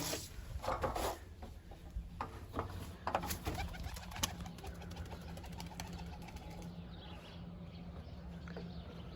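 Low, soft cooing from Mardin smoky tumbler pigeons repeats close by over steady background noise, with scattered clicks and rustles of wings and movement.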